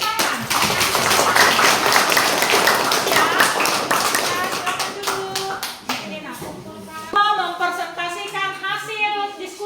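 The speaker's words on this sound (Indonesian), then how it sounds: "Ya, tepuk tangan." A burst of group applause in a classroom after a group presentation, loud and dense at first, then thinning into scattered claps before a voice starts speaking.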